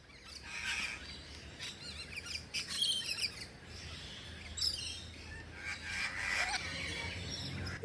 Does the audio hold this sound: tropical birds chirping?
yes